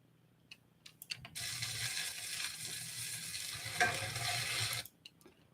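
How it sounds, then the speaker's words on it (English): Food being stirred in a frying pan on a home stove, a steady sizzle with intermittent scraping and clatter of the utensil against the pan, close and moderately loud with no talking. "We're stirring it some more"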